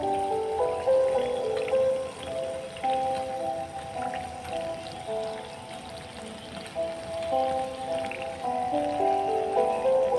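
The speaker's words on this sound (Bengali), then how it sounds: "সবগুলি কিন্তু এভাবে খুবই সুন্দর করে ভেজে নিতে হবে" Potato chops deep-frying in oil over low heat: a steady, close, rain-like crackle and patter that runs throughout, with a faint tonal hum layered beneath it.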